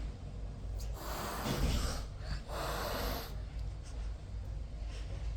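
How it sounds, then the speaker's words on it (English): A shelter kitten sniffs close to the microphone, making two soft bursts of breathy snuffling separated by a short pause, with quiet background hiss. "She's sniffing my face."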